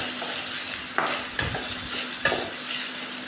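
Seasoned tempered rice being stirred and fried in a pan for a lunch box dish, a steady broadband sizzle with a few sharper scraping clinks of the spoon against the pan, fairly close and continuous, no talk.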